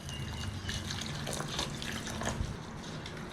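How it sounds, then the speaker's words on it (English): Water poured into soaked rice, with pre-cooked rice mixed in, for thosai batter: a steady liquid trickle and splash, fairly quiet and continuous, with no talking. "Okay, we're going to add water."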